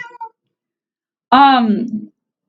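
A house cat gives a single clear, rising-then-falling meow close by, after a brief snippet of human voice and silence.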